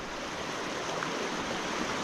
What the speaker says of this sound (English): This must be the Cowiche River